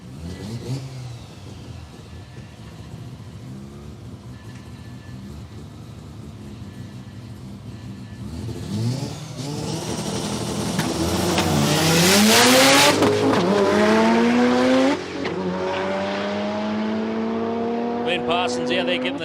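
Drag racing car at Palmyra Raceway accelerates hard down a concrete strip, engine building from a distant rumble to a loud rising roar with tires scrabbling for traction, then easing off, under a commentator's voice.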